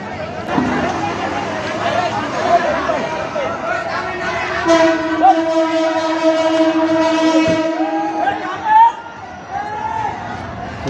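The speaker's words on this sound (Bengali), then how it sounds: "ট্রেন চলে এসছে।" A train arrives and sounds a long, sustained horn blast lasting several seconds over a rumble of moving cars, with crowd chatter nearby throughout.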